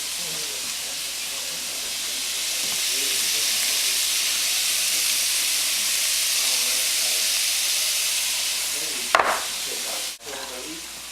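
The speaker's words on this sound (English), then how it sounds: "While I continue to brown the ground beef and continue to fry the onions" Ground beef and onions frying in a pan, a steady loud sizzle and hiss throughout with a couple of sharp utensil clacks near the end.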